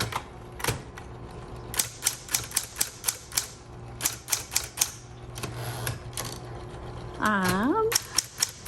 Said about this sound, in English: we're going to do some sentences so you can kind of see how it works for actual typing